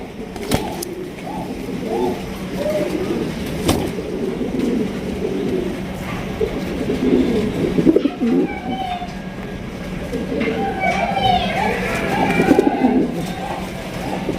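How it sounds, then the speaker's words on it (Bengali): Indonesian fancy pigeons coo in soft, repeated throaty murmurs close by, while someone talks over them; a few sharp clicks and chirps break through. "প্রিয় দর্শক এখানে রয়েছে আরও একজোড়া শৌখিন কবুতর"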